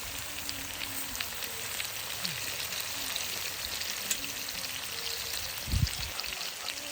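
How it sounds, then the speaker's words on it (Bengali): Potatoes frying in oil, a steady close sizzle that runs throughout with occasional stirring and a brief thump near the end. "আমি আলুগুলো লাল লাল করে ভেজে নিই"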